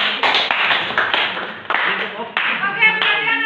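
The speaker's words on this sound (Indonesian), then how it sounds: "Oke, boleh tepuk tangan." Students in a junior high science class clap their hands together, a brief run of sharp claps that stops and restarts, with voices talking over and between the bursts.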